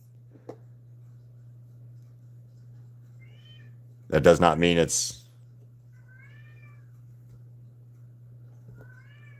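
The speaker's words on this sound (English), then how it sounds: "Oh my God. Do you guys hear my cat?" A house cat meows loudly once, a drawn-out wailing cry near the microphone, with a steady electrical hum underneath and a few faint chirps around it; a person speaks briefly.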